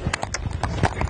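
Horse hooves clip-clopping in a steady, close rhythm during dressage trot-canter work in an arena, a brisk series of distinct footfalls with no talk over them.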